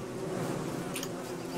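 A swarm of bees buzzes steadily in the game Don't Starve Together, a faint, even drone holding across the whole stretch with one brief brighter flutter near the middle.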